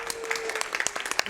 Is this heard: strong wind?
no